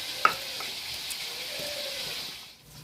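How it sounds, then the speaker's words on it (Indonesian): Oncom, a fermented soybean cake, frying in hot oil in a home kitchen, giving a steady close sizzle and hiss with a brief sharp crackle near the start that fades toward the end. "Oncomnya mau digoreng biasa aja."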